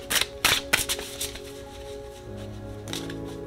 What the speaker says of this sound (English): All right, so let me shuffle again.